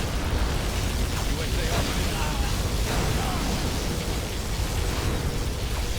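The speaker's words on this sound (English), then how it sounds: "Particle cannon activated." A loud, sustained roaring blast fills the whole clip, a dense rumbling wash of noise with crackling bursts: a particle cannon firing in the game Command & Conquer: Generals Zero Hour.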